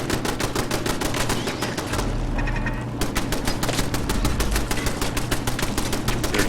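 Automated turrets firing in the video game Fallout 4: loud, rapid, continuous gunfire bursts with a short lull near the middle before the shooting resumes just as densely.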